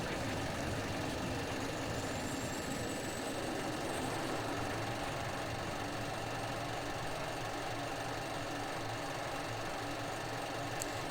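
F-16 jet fuel starter in the Falcon BMS simulator whines up during a ramp start: a continuous dense mechanical drone with a faint rising tone near the beginning, loud and steady to the end.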